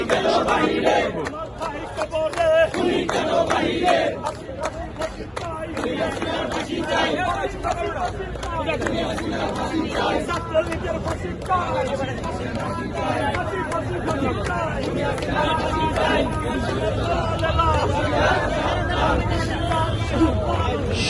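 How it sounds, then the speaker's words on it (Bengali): A large crowd of student protesters at a Dhaka rally chanting slogans together, loud and continuous, with massed voices and babble filling the whole stretch. "রীতিমতো স্লোগানে মুখরিত রয়েছে রাজধানীর হোসেন শহীদ প্রাঙ্গণ"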